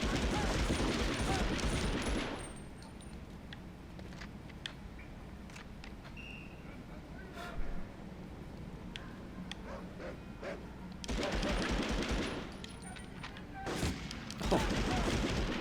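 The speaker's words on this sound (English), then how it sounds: "maybe I'll just use this SMG on this part of this mission" Bursts of SMG fire in a PS1 shooter, a rapid clatter at the start and again near the end, with a quieter stretch of scattered shots and game ambience between.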